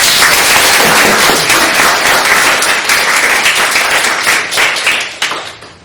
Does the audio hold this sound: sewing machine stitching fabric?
no